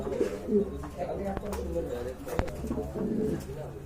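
A pair of White King pigeons cooing softly and continuously nearby, with someone talking over the birds throughout.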